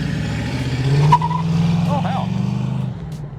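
A 1978 Pontiac Trans Am with Posi-Traction and 3.23 gears rumbles past close by with a strong low engine drone, a short tire squeal near the middle, and the engine note holding steady before easing off.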